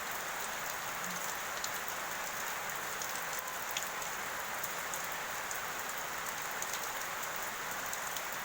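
Heavy rain pouring down in a dense, even hiss with scattered drop patters, steady throughout and without voices.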